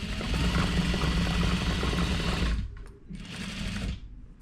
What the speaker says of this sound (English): check this seam right here with our accent fabric, and then we'll sew all the way down